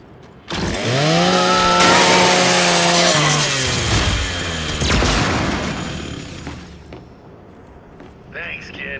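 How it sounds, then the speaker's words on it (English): A Lancer rifle's chainsaw cuts through a custodial unit in the Gears 5 video game, revving loudly into a grinding, whining cut for several seconds before tapering off near the end. "Just use your Lancer's chainsaw."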